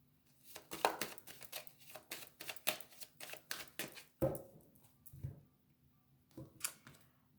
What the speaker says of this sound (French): on va faire la coupe avec l'oracle des miroirs